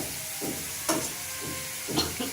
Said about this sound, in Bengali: এবারে বাটিটা নিয়ে অল্প একটু জল দিচ্ছি